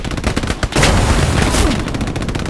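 Gunfire in the video game Hell Let Loose at Hill 400: loud, dense bursts of shooting and booming blasts fill the whole stretch, close and continuous without any clear talk.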